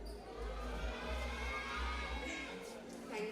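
An audience at a Bharatanatyam arangetram shouts back together in a loud, sustained crowd cry over a steady low hum of the hall.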